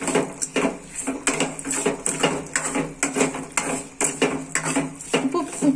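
Sundakkai (turkey berries) sautéed with turmeric and salt in a pan: rapid rhythmic scraping and knocking of a spoon against the metal, loud and close, repeating steadily over a faint sizzle.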